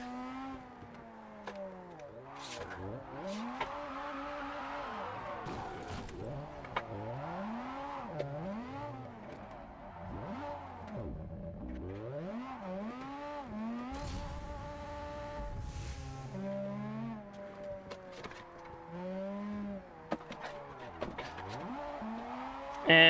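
Video game car engine revving and shifting pitch continuously, loud and busy with rising and falling whines, a racing-style vehicle driven hard throughout, with no talk.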